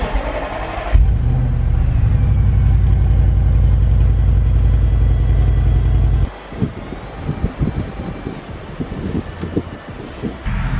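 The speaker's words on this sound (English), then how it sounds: "I am going to do one more cold start of the RS7" An Audi RS7 engine cold starts loudly about one second in, holding a steady, heavy high-idle rumble, then dropping around six seconds into a rougher, uneven idle with irregular pulses and some wind noise.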